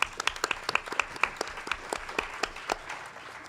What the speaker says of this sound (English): Let's give him a round of applause and welcome.